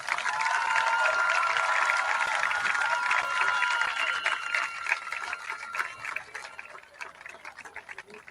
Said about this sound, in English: Raider fans, please give these students and parents a big round of applause.